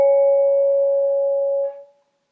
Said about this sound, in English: So without the motor going, it sounds like this.